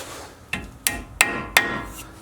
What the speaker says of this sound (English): take the tapered insert and insert it into the top of the steering knuckle. And I believe it needs just a little tap.